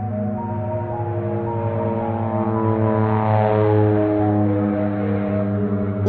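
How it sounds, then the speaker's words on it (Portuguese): A small propeller airplane drones overhead above a city, a loud, sustained engine hum with a steady pitch that swells slightly in the middle as it passes. "Um avião de pequeno porte sobrevoa a cidade jogando bilhetes"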